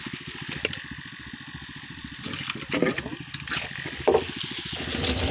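A 10:26:26 fertilizer solution trickles and gurgles as it drains down through a filter for drip irrigation, with a low mechanical hum underneath and occasional splashes, fairly close.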